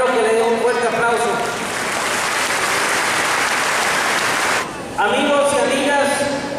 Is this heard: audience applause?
yes